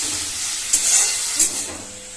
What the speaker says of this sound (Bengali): পেঁয়াজটা কিছুটা লাল লাল করে ভেজে নেব।